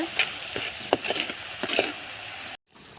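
Goat head gravy simmering in a pot, a steady bubbling sizzle with a few scraping stirs against the metal, continuing for a few seconds before cutting off abruptly.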